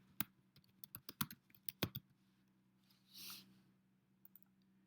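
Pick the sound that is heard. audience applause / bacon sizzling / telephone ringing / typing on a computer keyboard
typing on a computer keyboard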